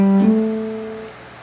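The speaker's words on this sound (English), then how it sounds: "The first one's going to be the hammer-on. It's a way to slur notes, and it sounds like this." A single electric or acoustic guitar note is plucked and slurred upward by a hammer-on to a second sustained pitch without a new pick attack, ringing clearly and slowly fading on its own.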